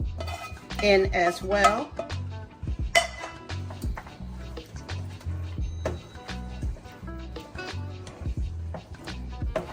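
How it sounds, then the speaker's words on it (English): Sausage goes into a pan for a meaty lasagna sauce amid clanking metal utensils, spoon clinks and stirring knocks in an irregular rhythm, loud and close, with brief speech. "we're gonna add the sausage"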